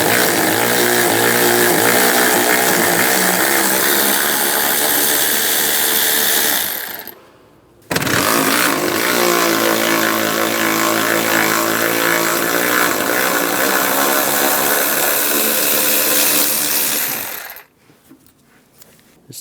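A ratchet with a 10mm socket works bolts loose on the radiator fan shroud of a 1999-2006 Chevrolet Silverado 1500 truck, in two long, loud, close mechanical runs separated by a short pause, then it stops.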